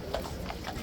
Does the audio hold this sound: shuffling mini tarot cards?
no